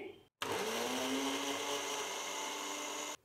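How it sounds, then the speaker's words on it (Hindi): A kitchen blender whirs steadily at full speed, mixing half a cup of milk with salt and vinegar for eggless mayonnaise; the motor starts abruptly after a brief pause, runs loud and close for almost three seconds, then cuts off. "तो ब्लेंडर लेंगे अब ब्लेंडर को हम चलाएंगे"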